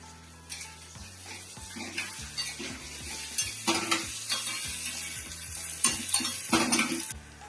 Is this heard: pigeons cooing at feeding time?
no